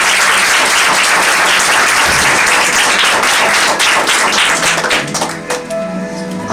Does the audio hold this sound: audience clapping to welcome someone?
yes